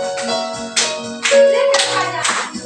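Children at a Sunday school clap their hands in loud, close bursts while singing together, the claps landing in rhythmic groups between sung phrases.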